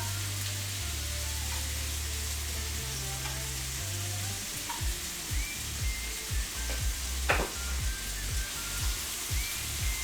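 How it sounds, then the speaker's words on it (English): Seasoned chicken pieces sizzle and crackle steadily in a hot pan as they brown, with a rhythmic series of soft scraping thumps as they are stirred. "Hear that sizzle."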